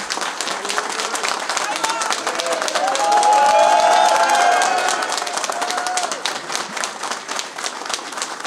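Audience at a Belgrade political rally applauds a mayoral candidate, a steady wash of clapping from a large crowd with some cheering, swelling in the middle and sustained throughout.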